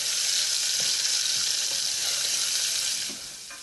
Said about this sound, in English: Going to give it a good stir.